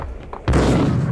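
A single loud gunshot blast in the video game Max Payne hits abruptly after a quieter stretch, and its heavy low boom sustains to the end of the moment.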